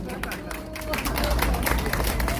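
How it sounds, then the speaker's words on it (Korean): Scattered clapping from a crowd at an outdoor protest rally swells into steady applause, with a murmur of voices underneath. "자, 박수 한번."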